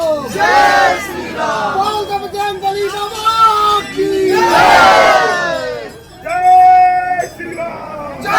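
Dense crowd of pilgrims at a busy Hanuman temple near Sangam during the Mahakumbh, loud overlapping shouts and chanting voices rising and falling in waves, with a sustained roar swelling in the middle.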